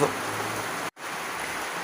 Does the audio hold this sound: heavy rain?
yes